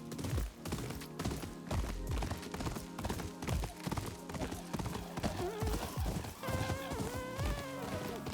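Horse hooves clip-clopping in a video game, a steady rhythmic run of hoofbeats with a brief whinny-like tone toward the end, heard alone without talk.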